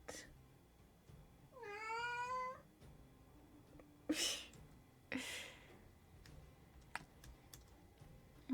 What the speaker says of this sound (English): Cat cameo again. What are you whining about?